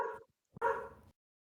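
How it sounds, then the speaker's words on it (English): Dogs barking in the background of a podcast recording, two short barks, the second louder and fuller, with no talking over them. "wish my dogs would shut up during recording time."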